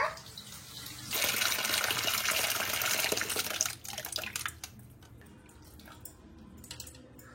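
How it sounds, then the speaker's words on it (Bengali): Running tap water splashing into a basin while Malabar spinach leaves are rinsed, a steady loud gush that drops away midway into quieter drips and swishes. "প্রথমে এক দু দোয়া এমনি করে জল ফেলে দেব, তারপরে একটা একটা করে ধুয়ে তুলে নেব"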